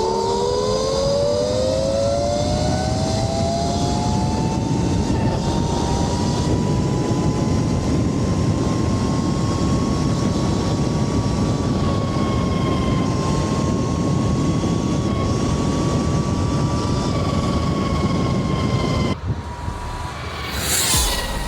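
A 72V Tuttio electric bike runs flat out at top speed, its motor whine rising in pitch and then holding a steady high tone over constant loud wind rush, with a sudden disturbance near the end.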